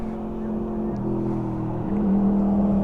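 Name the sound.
Yamaha R1 motorcycle riding past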